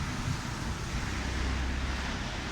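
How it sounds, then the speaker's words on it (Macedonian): Strong wind buffets an outdoor microphone on a street near a bakery, a steady low roaring rumble that fills the whole moment with no voices. "И многу ветер дуе и не ме слушате очигледно."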